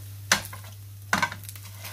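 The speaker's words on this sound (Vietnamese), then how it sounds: "Rồi mình cho nó chiên lại một phần nữa, mình cho nó chiên lại cái nữa." Crispy rice crust (cơm cháy) frying in a pan, with two loud sizzling bursts as it is stirred or pushed around, over a steady low hum and quieter crackling between.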